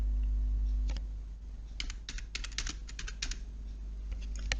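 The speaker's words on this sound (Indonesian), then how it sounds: "Ketik lagi passwordnya." Fingers type a password on a laptop or PC keyboard in a quick, uneven burst of close key clicks over a low background hum, with no talk.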